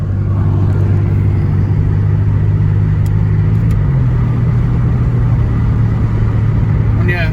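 A Pontiac Grand Prix car drives along a road, heard from inside as a loud, steady low engine drone with a constant road rumble and a slight pitch shift partway through.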